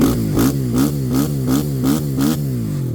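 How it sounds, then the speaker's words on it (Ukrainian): A Kovi Advance 300 motorcycle engine is revved repeatedly, about seven rhythmic throttle blips rising and falling over a steady idle, close and loud, then settling back to idle. "Як бачимо, мопед не димить після прогазовки"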